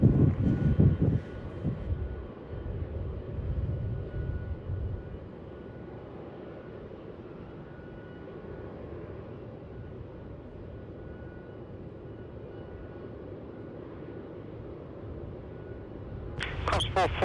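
Fiji Airways Boeing 737 at Melbourne Airport, a steady distant jet engine rumble that holds for most of the stretch, with bursts of wind buffeting the microphone at the start and a voice speaking near the end.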